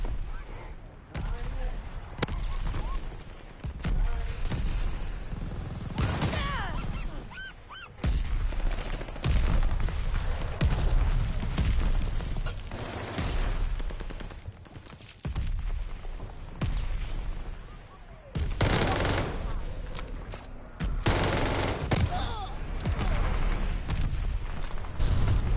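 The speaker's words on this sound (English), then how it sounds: "Allied mortar fire inbound." Allied mortar fire in the video game Call of Duty Vanguard: heavy booming blasts and rolling gunfire that fill the scene, with dense bursts and brief lulls, the explosions dominating throughout with voices mixed underneath.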